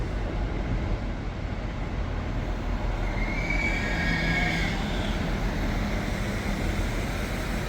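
A Transport for Wales train runs through Crewe station with a loud, steady rumble and rail noise lasting throughout, nearby, with a faint squeal partway through and no talk.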